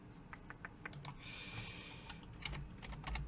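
Typing on a computer keyboard during a rendering lecture: quiet, continuous clusters of small key clicks at moderate pace with steady low background hum, no voices.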